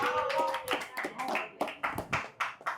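An audience at an English motivation show claps together in quick, uneven bursts that rise and fall for a few seconds, close and fairly loud.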